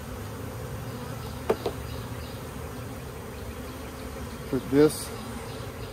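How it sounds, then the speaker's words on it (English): Honeybees hum in a soft, steady drone as they are shaken into an Apimaye hive, with a few brief thumps and a short spoken remark over the buzzing. "Shake the bees in there."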